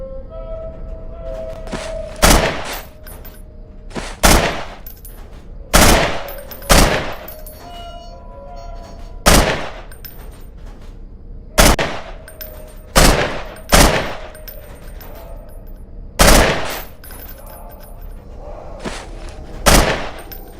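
A series of loud, sharp gunshots fired at pop-up targets during the training stage of the game Underhell, about a dozen separate cracks at irregular intervals, with quiet gaps between them.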